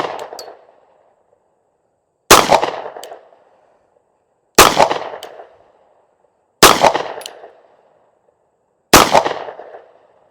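Five slow, evenly spaced pistol shots from an S&W Bodyguard 2.0 .380 and a Sig P365 9mm fired for accuracy, each a sharp, loud crack with a short ringing tail and quiet gaps of about two seconds between them.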